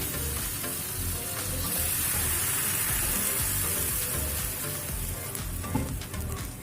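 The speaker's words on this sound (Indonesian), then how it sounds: "setelah bumbunya harum dan matang, kita masukkan air secukupnya ya" Steady sizzling and frying hiss, with a surge of bubbling noise as water meets spice paste in the hot pan, close and continuous.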